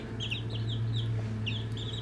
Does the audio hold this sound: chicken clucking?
yes